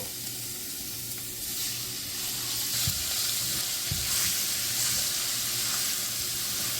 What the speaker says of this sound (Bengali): মাঝারি জালে ঠিক এক মিনিট আমি রসুনটাকে ভেজে নিলাম